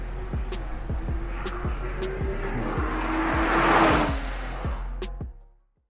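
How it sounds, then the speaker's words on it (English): A Toyota GR Supra, tuned to run on E50 flex fuel, idles after hard acceleration runs, a steady low engine drone with a rising wash of noise before it fades out; no one talks. "I'm just letting the Supra idle for a little bit from all the pulls that we did"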